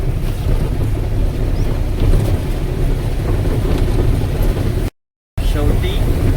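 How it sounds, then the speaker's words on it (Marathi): Heavy rain and gusting wind batter the microphone in a dense, continuous roar, loud and close, with a brief dropout near the end. "हे पहा पाऊस"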